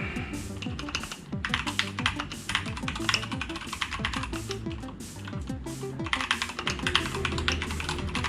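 Brisk, continuous typing on a Keychron K2 mechanical keyboard with brown switches, a dense run of close, clacky keystrokes with brief pauses, no talking.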